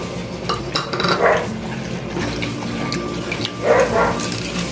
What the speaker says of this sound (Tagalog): Kailangan na haluin natin siya ng haluin hanggang sa mawala yung kanyang mga buo-buo.